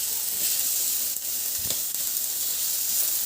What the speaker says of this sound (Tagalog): Igisa ko na rin yung sibuyas.